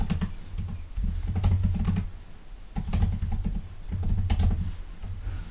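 Rapid keystrokes on a computer keyboard while typing a search into the Azure Portal search bar, arriving in close, crisp bursts separated by brief pauses, with no talking.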